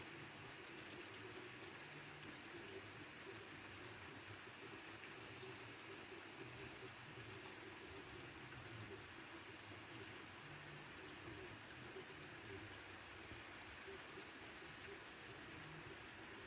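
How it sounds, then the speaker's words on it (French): Steady night rain pours continuously during a thunderstorm, a dense, even hiss of drops with no voices, soft and constant throughout. "Il pleut."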